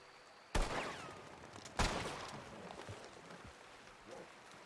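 Two sharp, loud gunshots crack in the WildRP Red Dead roleplay game, spaced about a second apart, each trailing off into a fading echo over quiet background ambience.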